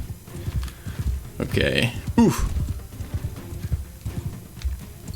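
Horse hooves clip-clop in the Mount & Blade II: Bannerlord video game during a Vlandia campaign battle, a steady rhythmic trotting under game noise, with a person briefly speaking over it.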